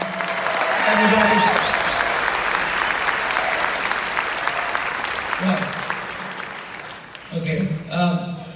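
Concert crowd applause for a pop singer on a nostalgia tour, a broad wash of clapping with a presenter's voice talking over it in places and becoming clearer near the end.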